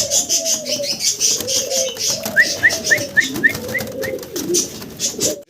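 A pair of white pigeons coos repeatedly in close, rolling phrases with soft throaty pulses and a few chirpy notes, loud and near with no talking.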